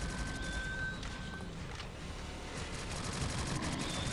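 Turret gunfire from the video game Shadowgun Legends rattles in steady, dense bursts, a continuous loud wash of rapid shots with no pauses and no voices.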